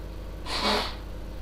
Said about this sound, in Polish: Ten mi tutaj smarka